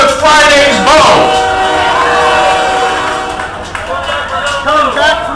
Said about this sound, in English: Here goes our train again, and it doesn't seem to have any coal in it.